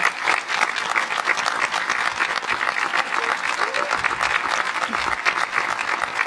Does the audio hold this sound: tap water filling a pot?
no